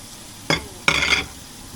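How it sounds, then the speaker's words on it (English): A spoon stirs chicken noodle soup in a pot in a home kitchen, giving two short, close scraping strokes, the second longer, over a quiet room. "I'm just reaching to stir the soup."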